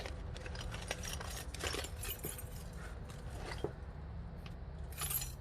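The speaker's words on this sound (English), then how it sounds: "here are the original keys that come with that lock." The original keys supplied with an Almont lock jangle and clink together close by. The metallic rattles come in several short bursts over a quiet background.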